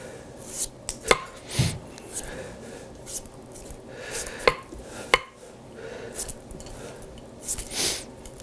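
Knife shaving slices off a cantaloupe on a cutting board, a few sharp scraping strokes and taps spaced irregularly, close and moderately loud over quiet kitchen room tone.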